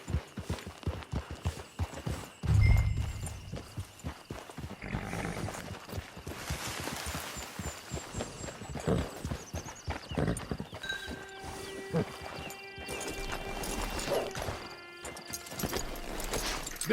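Horse hooves clip-clop in a steady rhythm throughout the Red Dead Online game scene, with a brief heavy thud near the start and faint ambient tones and chimes layered underneath.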